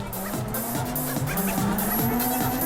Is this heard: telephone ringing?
no